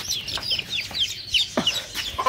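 A rooster and several chicks cluck close by in a poultry coop during hot weather, with sharp, high chirps and short clucks coming in a busy, uneven series and no talking.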